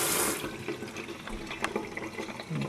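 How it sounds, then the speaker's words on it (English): Tap water runs steadily over a wine thief being rinsed at a sink during fruit winemaking, a continuous close splashing stream with a few small knocks and no talking. "I'm going to give it a quick rinse."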